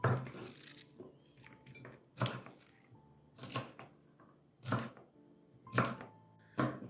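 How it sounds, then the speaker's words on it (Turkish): Sharp knife chops through peppers on a cutting board in short bursts at regular intervals, close and fairly loud, with quiet pauses between. "Biberimiz doğranıyor"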